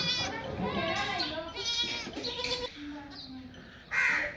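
A goat that has just given birth bleats near her newborn kids, with several wavering cries over a low, steady background and someone talking through much of it.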